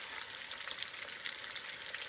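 Dominican meatballs fry in a pan with a continuous faint hiss of sizzling oil and small scattered pops, heard close and alone.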